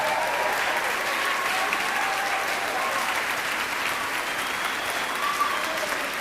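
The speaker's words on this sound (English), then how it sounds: "One more round of applause for everybody." Steady, sustained applause from a large crowd at an outdoor Christmas event, dense and continuous throughout, with no pauses.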